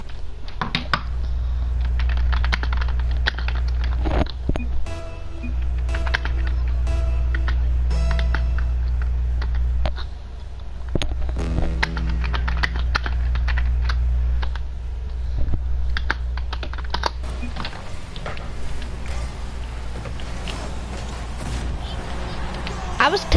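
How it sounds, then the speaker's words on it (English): Rapid clicking keystrokes on a computer keyboard during a Rocket League match, continuing through the whole stretch under a loud steady low game hum, with scattered louder taps. "I was typing something in chat."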